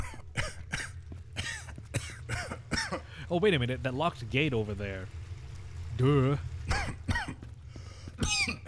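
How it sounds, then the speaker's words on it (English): Game character in Infra coughing from deadly gas, several harsh coughs and throat clearing scattered through the clip, with a person talking over them at times. "the only reason why he's coughing is because this place is full of, like, some, like, deadly gas or something."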